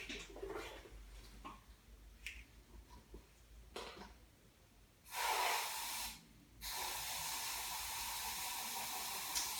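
Water rinsing etchant off a dental restoration, a steady broadband spray that starts about halfway through, pauses briefly, then resumes and runs loud to the end, after soft scattered handling noises.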